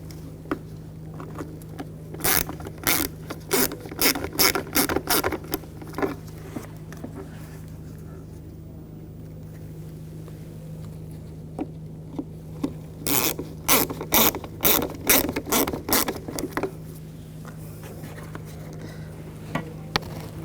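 Screws being driven into a headlight assembly on a 2000-2006 BMW X5, heard as two runs of quick, close ratcheting and clicking bursts from the tool, separated by a quiet gap, with no talking.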